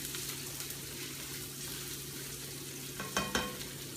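Garlic fries in oil in a pan for Japanese udon with shrimp, a steady moderate sizzle with a brief clatter of stirring near the end.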